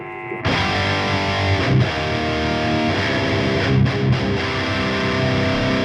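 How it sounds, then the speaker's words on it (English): Electric guitar played through a distortion pedal, thick saturated chords ringing out loud and sustained after a sudden start, with a few brief accented strums; no voices. "we're all here for the distortion"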